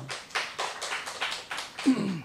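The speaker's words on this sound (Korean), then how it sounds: "여러분 박수로 한번 환영해 주세요" Scattered bursts of hand clapping come from a small church audience welcoming a professor to speak, several separate clusters of claps at moderate distance, fairly faint with pauses between them.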